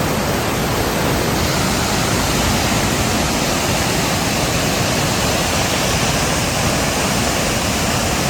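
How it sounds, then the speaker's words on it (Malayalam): A powerful, constant roar of rushing water fills the whole clip, loud and unbroken, as the Chaliyar river pours through an open dam shutter. "ഇവിടെ ഈ ഒരു ഷട്ടർ ഇപ്പം തുറന്നിട്ടാ അതുകൊണ്ട് നല്ല ശക്തിയായിട്ടാണ് വെള്ളം ഒഴുകുന്നത്"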